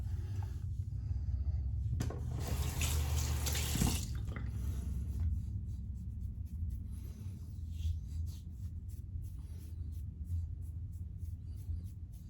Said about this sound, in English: rinse off the blade and see what I got